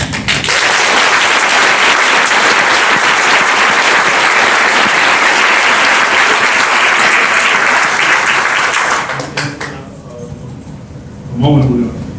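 Sustained audience applause at a media event fills about nine seconds loudly, then fades as a voice begins speaking.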